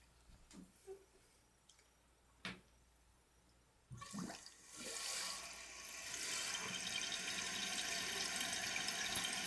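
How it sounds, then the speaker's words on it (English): Toilet flushing after a leak repair, a few faint clunks and taps, then a sudden loud rush of water that settles into a steady hiss as the tank refills, close by and with no talk. "Now turn the water on all the way and let it fill up and flush a couple times"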